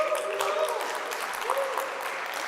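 Conference audience applauding at a Solana blockchain event, a dense clatter of many hands clapping throughout, with voices talking faintly over it.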